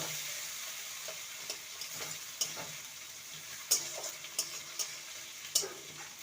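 Ginger and garlic paste fries in a pan with a soft, steady sizzle while a spoon scrapes and taps through it in scattered, sharp clicks, close and moderately quiet.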